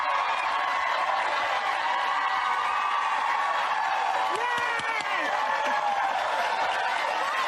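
Studio audience of a TV talk show cheering and applauding in a steady, dense wash of clapping and whoops that fills the room throughout, with some voices rising over it near the end.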